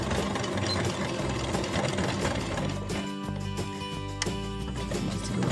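A sewing machine back-stitches through ribbons with a close, steady mechanical whirr and a fast rhythmic needle clatter that holds throughout, with no talking.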